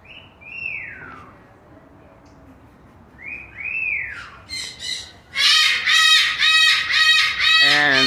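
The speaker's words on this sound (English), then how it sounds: "Pretty birdie. Aw, more birdies." Birds, one with a blue head, call with rising whistles and harsh squawking, then a loud run of repeated chirping calls close by, with a voice briefly beneath.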